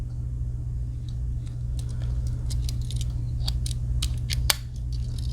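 Victorinox Swiss Army knife scissors on a 2022 Huntsman, with a spring guiding groove, giving a series of small sharp snips and clicks over a steady low hum, one louder click standing out near the end.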